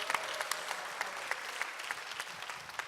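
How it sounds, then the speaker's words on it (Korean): A congregation applauds a pastor, married 38 years, and his wife at a church healing-center gathering: a moderate crowd of brisk, scattered handclaps with sharp individual claps standing out, steady for a few seconds. "우리 사모님하고 목사님 크게 박수합니다"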